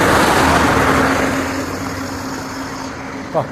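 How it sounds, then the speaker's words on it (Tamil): A steady, loud Leyland diesel coach engine drones and idles close by with a constant low hum, and a brief squeak near the end. "இன்ஜின் சவுண்டு பார்த்தா லேலாண்டு மாதிரி தான் இருக்குது."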